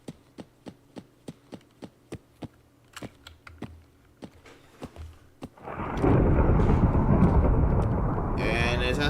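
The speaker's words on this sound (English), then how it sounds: "And it's a thunderstorm." Thunder from a storm rolls in as a loud, broad rumble after several seconds of steady rhythmic clicking like keyboard typing, then sustains as a heavy roar to the end.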